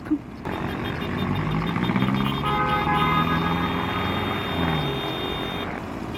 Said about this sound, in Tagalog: practice natin yung busina.